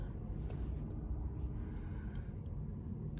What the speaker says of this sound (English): blower motor's working right now.